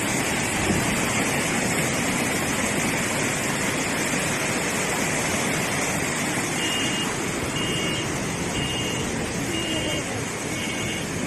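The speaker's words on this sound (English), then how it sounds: "intense snowmelt from surrounding farmland surged toward residential areas and nearly drowned an" Snowmelt floodwater from surrounding farmland surges into a Russian village, making a steady, loud, broadband rushing roar that continues unbroken, with a faint intermittent beeping in the background.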